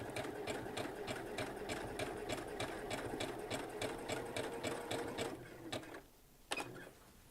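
A sewing machine tacks down fabric on a quilted notebook cover, with a fast, even mechanical stitching rhythm running continuously for about five seconds before slowing, stopping and giving a couple of clicks.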